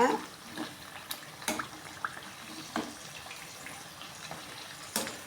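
Thattai rice crackers sizzle and crackle in hot oil, with a steady bubbling hiss broken by sharp, irregular pops close by.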